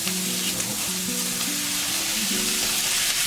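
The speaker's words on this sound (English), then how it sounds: "In with the tiny shrimp." Tiny canned shrimp sizzling in a hot pan while fried rice is made, a steady crackling hiss with faint stirring scrapes, close and continuous, with no voices.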